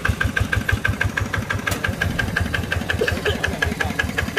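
A tractor engine runs steadily just after starting, with a loud, close, rhythmic chugging and knocking pulse and a vibrating rattle that continues without a break and no voices.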